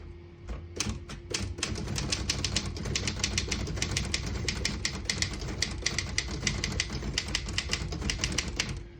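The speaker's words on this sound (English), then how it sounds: "Beautiful typing machine." Rapid, steady clacking of a Royal KHM vintage desktop manual typewriter, keys striking in a dense continuous stream with occasional louder hits, close up.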